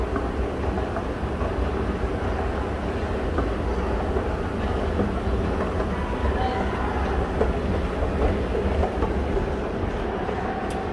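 Kone Twinkle-M escalators running inside a shopping mall give a steady mechanical rumble with a faint rhythmic clatter, continuous and moderately quiet, with no voices.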